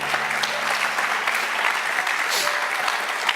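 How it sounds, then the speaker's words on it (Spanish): A church congregation applauds during a Spanish-language sermon, dense sustained clapping filling the room at an even, fairly loud level with a faint voice mixed in. "¿Cuántos dicen amén y le dan un aplauso a Dios?"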